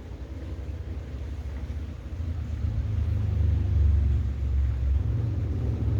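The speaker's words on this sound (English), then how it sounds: "I'm in a park, but there is a truck going through it," A deep, rumbling truck engine drone swells and lingers as the truck rolls past nearby through a park, growing louder midway before easing slightly.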